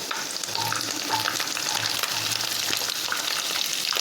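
Chopped onion frying in a pan for chilli sausage, a steady close sizzle with soft stirring scrapes running throughout, no voices.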